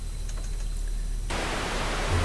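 A synthesized noise waveform from the Bitbox music editor switches on partway through as a steady, loud broadband hiss like static, following a quieter stretch of faint tones.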